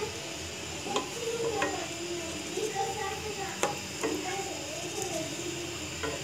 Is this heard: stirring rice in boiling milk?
yes